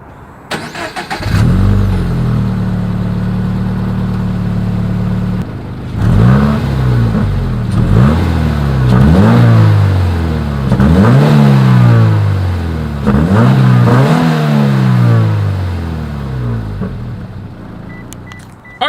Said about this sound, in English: Here is that 2020 Toyota 86 exhaust clip.